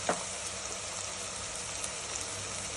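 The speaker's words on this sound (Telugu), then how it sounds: "ఇది పచ్చివాసన పోయేట్టు వేయించుకోవాలండి" Chana gongura curry masala fries in a pan with a soft, steady sizzle and crackle that runs throughout at a low, even level.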